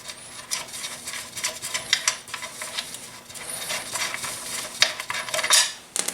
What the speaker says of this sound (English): we're going to remove these two front Allen bolts using the 5mm Allen wrench